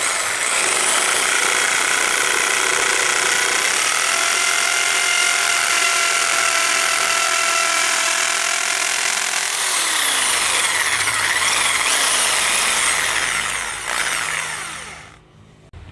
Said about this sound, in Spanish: Bueno, ya hicimos el primer agujerito.